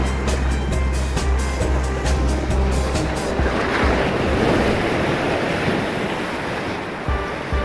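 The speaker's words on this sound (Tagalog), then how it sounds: "Yan, guys, ang lakas ng hampas ng alon." Strong sea waves crash loudly near the Ha Shan Tuk twisted cave at Clear Water Bay, Hong Kong, with a continuous roar of surf and heavy wind buffeting the microphone.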